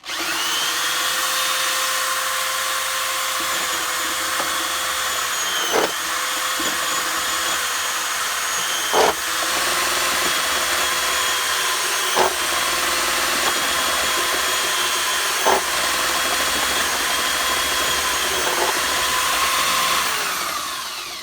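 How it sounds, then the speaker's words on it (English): A power drill driving an apple crusher whirs steadily for a long stretch while grinding apples for cider, its pitch dipping briefly several times as it bogs down under load, loud and close. "Fire up the drill."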